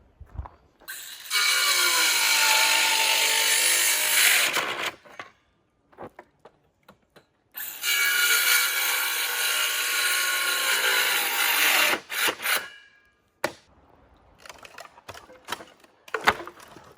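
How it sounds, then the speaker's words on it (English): Power saw cutting wooden pallets into pieces, two long loud bursts of buzzing cutting separated by quiet, followed by scattered clunks and knocks of wood being handled. "So I'm gonna just try to cut these out, cut these into pieces."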